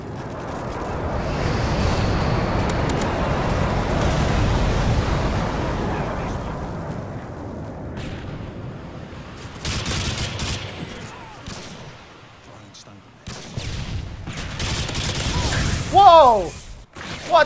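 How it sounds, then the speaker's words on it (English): Heavy rumbling blasts and crackling gunfire from a Call of Duty: Modern Warfare airstrike, loud and sustained for several seconds before easing, then a fresh burst of booming explosions near the end with voices briefly heard. "Friendly airstrike inbound."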